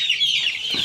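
A flock of three-week-old joper chickens on a farm keep up a steady, dense chorus of high peeping and clucking, close and continuous with no talk.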